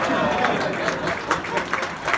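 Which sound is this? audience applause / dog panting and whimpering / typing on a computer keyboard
audience applause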